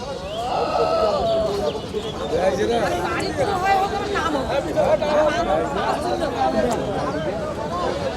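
Bleats from a Totapuri cross billy goat at a busy livestock market, heard amid constant crowd chatter and several voices talking nearby, with other animal calls mixed into the noisy background.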